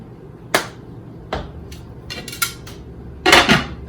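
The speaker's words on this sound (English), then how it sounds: "Put your lid on, and you're gonna cook that on low for 3 hours and 15 minutes." A lid being set onto a crock pot gives several sharp clattering knocks of ceramic and metal, spaced irregularly, with one longer rattling clank near the end.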